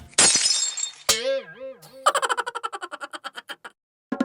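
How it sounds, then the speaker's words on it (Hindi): Cartoon glass shatters in a loud burst as a window pane is hit by a slingshot shot, followed by a boinging springy effect and a rapid string of clinking, bouncing tones that fade out. "तुम्हारे बिल्लू ने अपनी गुलेल से हमारी खिड़की का शीशा तोड़ दिया"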